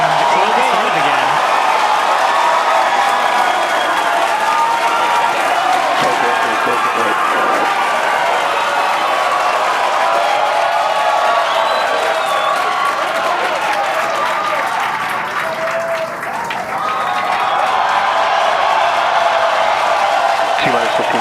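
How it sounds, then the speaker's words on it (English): A large crowd cheers and applauds continuously at a SpaceX Falcon 9 launch viewing at Starbase, Texas, a dense, loud wash of clapping and shouting with voices mixed in throughout. "Cheering, the clock started again."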